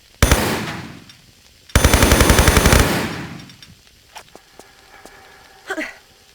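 An MP5 submachine gun fires in Tomb Raider 3, HD remaster, Temple of Puna: a short burst, then a longer rapid automatic burst, loud and close, followed by scattered game clicks and thuds.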